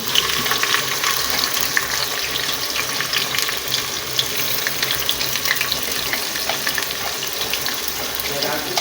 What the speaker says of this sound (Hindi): अब मैं डाल रहा हूँ इसमें प्याज